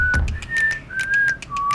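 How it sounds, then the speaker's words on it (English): Someone whistles a short melodic phrase of a few sustained, sliding notes, close and clear, with faint breathy noise between notes and no talking. "That was a great whistle."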